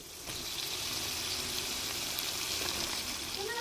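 Tamarind water pouring into a brinjal curry of tomato and onion fried in oil, a steady liquid gush that holds at an even level throughout.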